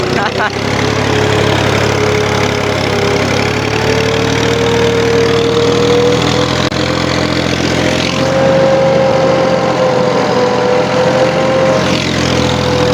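A tractor engine runs loudly and steadily while ploughing a field, a continuous mid-pitched drone with a faint whine that rises slightly partway through.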